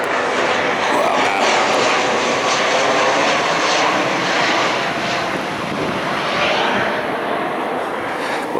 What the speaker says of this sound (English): I sure hope that airplane noise doesn't drown me out.